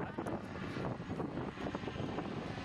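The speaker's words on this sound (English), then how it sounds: "Oh yep, here's the King Air that was dropping parajumpers." A King Air turboprop plane used for dropping parachute jumpers runs its propeller in beta, giving a steady, loud, rumbling engine and propeller roar that continues throughout, with no voices over it.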